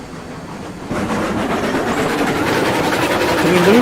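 A steam locomotive in the train game Railroads Online chugs with a steady, rising rumble and rolling rail noise that grows louder, the loco working hard as boiler pressure builds.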